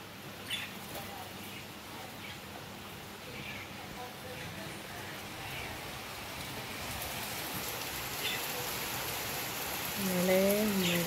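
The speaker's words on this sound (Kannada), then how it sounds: "ಇಷ್ಟು ಜೋರು ಮಳೆ" Heavy rain pours down in a dense, continuous hiss that builds slightly over time, with a brief voice breaking through near the end.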